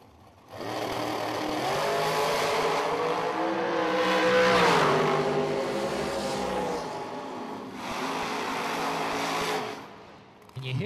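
The supercharger blower of a drag racing car revs at a bracket racing event, a loud sustained roar that swells, holds and rises again with shifting pitch, close by.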